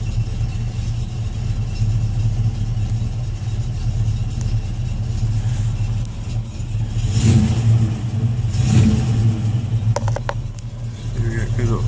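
A 1968 Ford Mustang with a 302 V8 and five-speed idles steadily with a deep low rumble, swelling briefly as it revs around the middle, with a voice speaking over the running engine.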